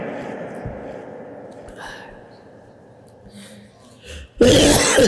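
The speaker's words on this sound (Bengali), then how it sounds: "কাশিটা তো বন্ধই হচ্ছে না," A man coughs during a religious sermon: a soft, breathy stretch with faint throat sounds, then one loud, harsh cough burst near the end.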